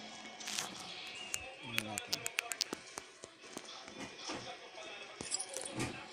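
Keys jangle in the Slendrina 2D video game, several quick metallic clinks and taps in a cluster, fairly faint among soft footstep-like sounds and background noise.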